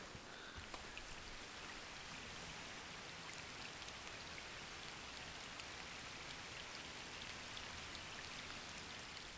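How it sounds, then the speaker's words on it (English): Quick rain shower on an outdoor hike, a dense steady patter of raindrops on surfaces, continuous and even throughout, soft but close, with no voices. "it was just a quick shower."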